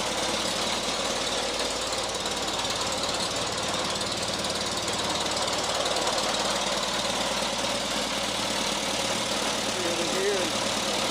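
The engine of an Oliver 60 tractor, fitted with a new coil, runs steadily in a close, continuous mechanical knocking drone with even firing pulses throughout.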